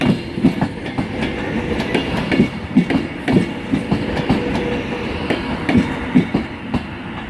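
An Arriva train passes at Crewe station on the West Coast Main Line, a steady close rumble with rhythmic clickety-clack wheel beats running throughout.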